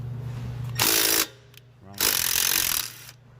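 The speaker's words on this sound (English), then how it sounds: "I want to take this brake line bolt out as an 8mm" A powered wrench spins out an 8 mm brake line bolt on a Ford Escape during a suspension teardown for a leaking CV axle: two loud, harsh whirring bursts, the second longer, separated by a brief pause.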